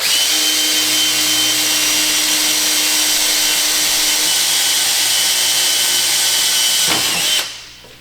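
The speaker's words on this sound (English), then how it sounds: "But I'll pre-drill it." A power drill whirs steadily while pre-drilling a hole for a Tech screw in a garden decoration build, loud and close, then winds down and stops near the end.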